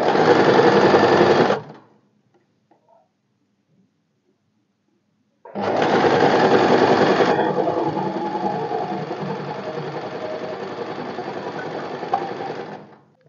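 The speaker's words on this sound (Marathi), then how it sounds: "आर्महोल आणि नेक स्टिच करताना अजिबात ओढाताण करायची नाहीये" A sewing machine stitches the armhole seam of a short strip-style kurti, running in a steady loud whir for a burst, pausing in near silence, then starting again and humming continuously to the end.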